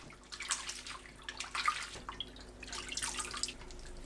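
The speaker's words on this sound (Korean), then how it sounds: "불린 미역을 조물조물 씻어줍니다." Soaked miyeok seaweed is squeezed and rubbed by hand in a bowl of water, giving soft intermittent splashes and wet squelches with drips, fairly quiet and close.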